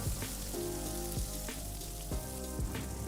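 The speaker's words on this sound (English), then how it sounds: "flip the prawns one by one and we will fry the other side for another 1 to 2 minutes on medium flame" Prawns fry in oil in a karahi over a medium flame, giving a steady, close sizzle with crackling pops throughout and a few louder spits standing out from the hiss.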